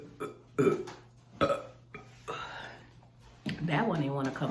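Several loud, close burps follow drinking Cherry Vanilla Coke, coming as a series of separate bursts, and talk is heard toward the end.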